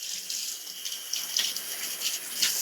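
Kitchen tap running over bell peppers in a sink, a steady hiss of flowing water with light splashing, close and moderately quiet.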